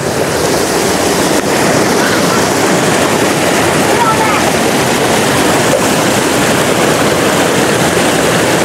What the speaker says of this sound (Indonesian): Mereka gembira sekali mandi di sungai.